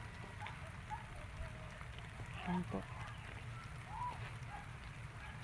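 Steady rain falls outdoors near a vegetable garden, a constant soft hiss under a brief spoken phrase.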